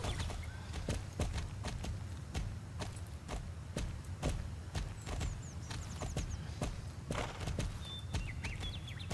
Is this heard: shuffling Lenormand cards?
no